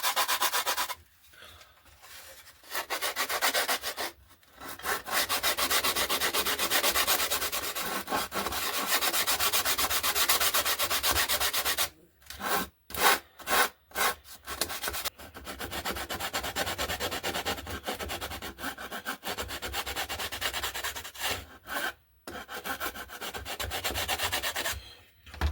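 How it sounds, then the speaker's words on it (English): A sanding stick rubs a balsa wood rib on an RC glider wing flush, producing steady, close, scratchy back-and-forth strokes in long runs broken by short pauses and a quick burst of choppy passes. "So we just get the sanding stick"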